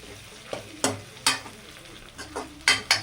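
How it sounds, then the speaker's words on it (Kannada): Green chillies and curry leaves fry in hot oil: a soft sizzle broken by several sharp crackling bursts and spoon scrapes, close and clear, with no voices. "ಮೆಣಸಿನ್ಕಾಯಿ ಮತ್ತು ಕರಿಬೇವು ಸೊಪ್ಪು ನೀಟಲ್ಲಿ ಎಣ್ಣೆ ಬಿಟ್ಕೊಂಡು ನೀಟಾಗಿ ಫ್ರೈ ಆಗಲಿ"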